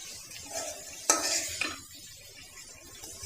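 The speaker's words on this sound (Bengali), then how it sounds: "তারপরে মশলাটাকে একটু সুন্দরভাবে কষাইতে হবে।" Masala being stirred and sautéed in a pan while cooking goat meat curry, with faint scraping and soft sizzling, a sharper clatter of spoon against pan midway, no talk.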